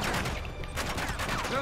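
Brief burst of gunfire in Uncharted: The Nathan Drake Collection, dense shots in a short rattling volley, moderately loud, with no speech over it.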